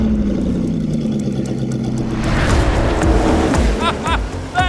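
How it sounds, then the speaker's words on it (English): A Bugatti Bolide hypercar with 1600 hp roars around a race track, its loud engine drone shifting in pitch and swelling into a harsher, rising growl near the end. "Today is the day I get to drive that, Bugatti's insane Bolide."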